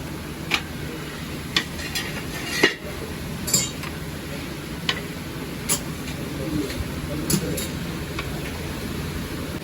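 About 300 eggs are tossed and stirred in a large 12 kg wok in a hotel kitchen while making egg tarka, giving irregular sharp metallic clinks and scrapes over a steady background hiss.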